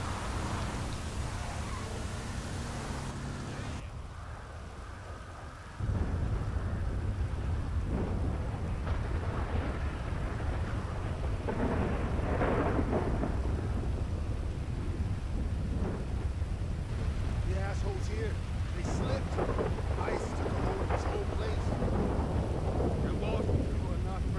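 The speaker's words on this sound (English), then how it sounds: "it's raining though, is it?" Steady heavy rain with low rumbling thunder in GTA V, a dense wash of noise that swells louder partway through and continues without pause.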